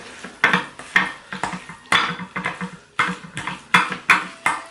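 Spicy cheese noodles being mixed in a dish, giving a run of clattering utensil scrapes and clinks against the bowl in an irregular rhythm, close and fairly loud, with no talking.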